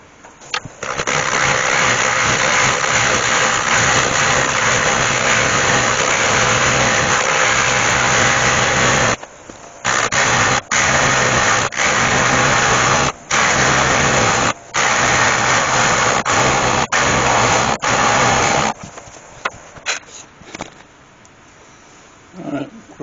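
Wood lathe hollowing a damaged, broken hazel piece, held at low speed: a steady, loud motor-and-cutting drone that drops out briefly several times and fades near the end.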